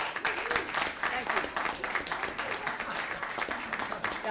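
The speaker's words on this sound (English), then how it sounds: "Those of you sitting, I hope that you will applaud those people standing up." Audience at a state board of education meeting applauding people standing up, a steady dense patter of clapping from a seated crowd with some voices mixed in.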